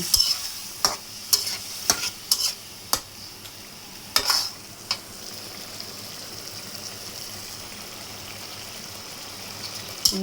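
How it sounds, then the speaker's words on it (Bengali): A spoon scrapes and clicks in a pan as spice paste is sautéed with hilsa fish head and tail for a taro stolon dish. A few sharp stirring knocks land in bursts over a soft, steady sizzle, with no talking. "এখন আবার মশলাটা নেড়ে চেড়ে ভালো করে কষিয়ে নেব"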